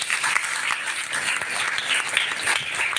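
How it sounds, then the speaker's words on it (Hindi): Applause from the audience at a Pran Yoga sadhana and healing camp in Barsana, Uttar Pradesh, welcoming a guest: steady, dense clapping that carries on through the whole stretch with no voices over it. "एक करतल ध्वनि से तालियों से इनका स्वागत करेंगे।"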